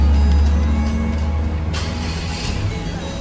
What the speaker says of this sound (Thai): ื่องยนต์ก็จะสตาร์ทติดนะครับ